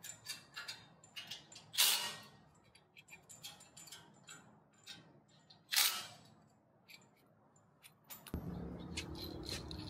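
A wrench tightens a bolt through a go-kart steering knuckle, giving close ratcheting clicks with two louder metallic clanks, then a dull rumbling handling noise toward the end.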